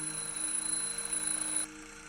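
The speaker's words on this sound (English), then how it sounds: "The alarm went off." An alarm clock in the video game My Name is You rings with a steady electronic tone, even and moderately loud, before cutting off abruptly, leaving a fainter hum underneath.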